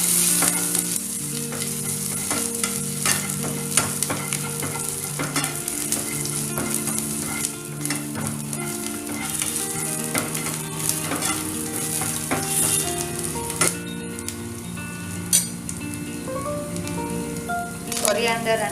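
Garlic and dry red chilli are stir-fried for cauliflower 65, with a loud continuous sizzle and constant scraping stirs of a utensil in the pan, close and busy with no speech.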